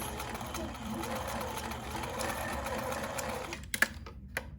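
A sewing machine stitches back and forth over a fabric mask seam, a steady close whirring run that stops near the end, followed by a couple of small clicks.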